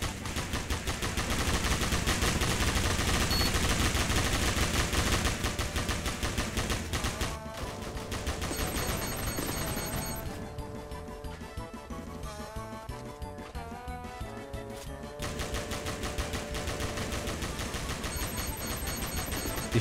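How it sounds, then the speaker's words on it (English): Rapid automatic gunfire in the Roblox game Military Tycoon, a dense loud rattle running nearly throughout, thinning midway, with repeated high electronic beeps layered on top. "He's trying to shoot me, but it's not actually hurt me."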